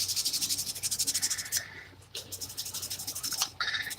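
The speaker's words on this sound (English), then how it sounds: "So I'm just going to do a final little sand here" A surface is hand-sanded in a fast, steady back-and-forth rhythm with brief pauses. The scratchy strokes are close and fairly loud, and no one speaks over them.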